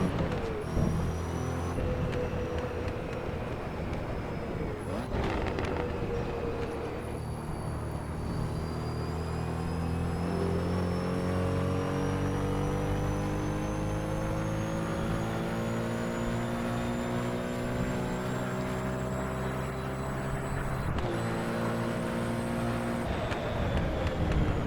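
Porsche 917K flat-12 race car in the Assetto Corsa racing game, its engine revving hard to about 8,000 RPM with rising and falling harmonic pitch sweeps and gear changes, loud and continuous from start to finish.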